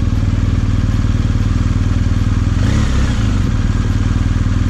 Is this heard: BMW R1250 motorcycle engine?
yes